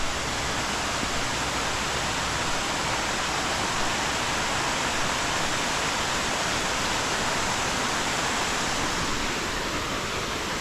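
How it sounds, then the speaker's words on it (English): A waterfall on the Appalachian Trail roars as a dense, steady rush of water, loud and constant throughout with no other sounds. "But there's a really cool waterfall in front of us."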